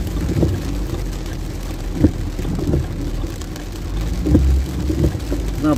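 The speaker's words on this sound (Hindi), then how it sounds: "ना बारिश हो रहा है यार।" Steady rain patters as a broadband hiss, with a few louder drop impacts and a low rumble underneath; no one speaks.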